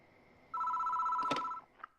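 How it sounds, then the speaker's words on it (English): A telephone rings in the horror visual novel game Death Mark, one steady electronic ring lasting about a second with a short click near its end, loud and alone without speech. "Step inside and wait for the phone to ring."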